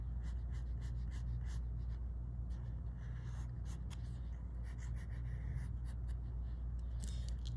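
Pencil drawing a shirt on paper, a faint, close scratching of quick repeated strokes over a low steady hum, no talking.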